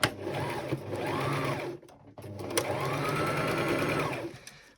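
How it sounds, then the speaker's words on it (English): A sewing machine back stitching the fabric of a Christmas stocking, running in two steady bursts of whirring hum and rapid needle chatter separated by a brief pause, with no talking. "So wee back stitch."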